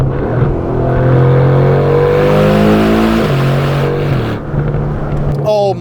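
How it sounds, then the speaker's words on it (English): 2024 Aston Martin DB12, 671 hp, accelerating hard from highway speed past other cars, a loud continuous engine roar with rising harmonics and a brief gear-change dip, heard steadily from inside the cabin. "this thing can just fly past cars, even when you're already rolling at 70 miles an hour"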